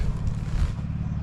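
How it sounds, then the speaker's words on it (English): A tractor engine runs nearby in a steady low rumble, continuous and fairly loud with no speech over it. "somebody's just started a tractor up"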